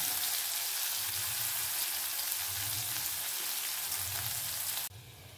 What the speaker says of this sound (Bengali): এবারে আমি পেঁয়াজ কুচি এর মধ্যে দিয়ে দিলাম। পেঁয়াজটা সামান্য নাড়াচাড়া করে ভেজে নেব।